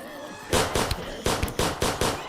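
Gunfire from guns in an Unreal Engine 5 game under development, six loud, evenly spaced sharp shots in quick succession, close and punchy, with no talking.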